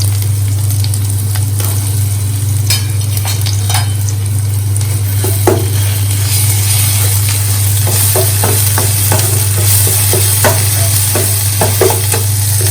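Browning onions with a spoon of ginger garlic paste frying in a pan, a loud, continuous sizzle broken by clicks and scrapes of a spoon stirring, over a steady low hum, no voices.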